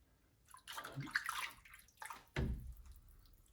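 A floating duck decoy rides choppy water in a test tank, giving quiet sloshing and splashing in two bursts, the second a sharper slap, against near silence.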